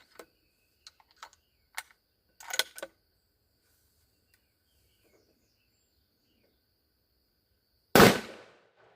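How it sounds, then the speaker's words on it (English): A 6.5 Creedmoor shot from a Howa 1500 rifle with a 22-inch barrel, fired into a ballistic gel rabbit: one sudden loud crack with a short decaying tail, preceded by scattered faint clicks and handling noises in near silence. "we're going to shoot the front half of the rabbit"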